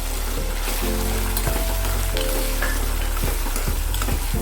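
Green chillies fry in hot oil for raw mango pulihora, giving a loud, steady, close sizzle throughout, with occasional stirring scrapes and a few crackles and pops on top.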